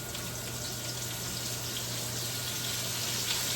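Water runs steadily from a kitchen tap while zucchini are washed, a constant broad gushing hiss that stays at an even level throughout with no talk over it.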